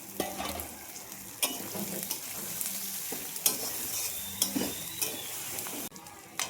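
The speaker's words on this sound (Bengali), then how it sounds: "এটাকে এখন আমি একটু ভালো করে কষাবো" Garlic and tomato sauté in a hot pan for biryani, with a steady close sizzle broken by sharp spoon scrapes and stirring knocks against the metal every second or so.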